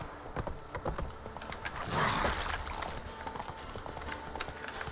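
Roach, a horse in The Witcher 3, trots with steady clip-clop hoofbeats close by, and a brief whinny-like rise around the middle, over game ambience.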